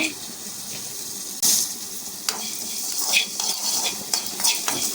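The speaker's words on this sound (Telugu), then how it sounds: "ధనియాలు బాగా వేగిన తర్వాత చెక్క మొగ్గలు వేసుకోవాలి." Coriander seeds fry with cinnamon and cloves in a pan, giving a light continuous sizzle broken by scraping stirs and sharp clicks of a spoon against the pan.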